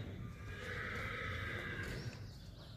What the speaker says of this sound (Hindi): ये देख, बहुत प्यारा घोड़ा है